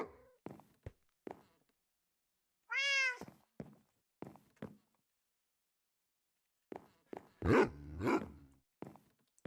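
Dogs in the video game Minecraft: scattered short barks and yaps, a few spaced singly, then a cluster of overlapping barks toward the end, plus a rising meow-like whine in between, close and clear over silence.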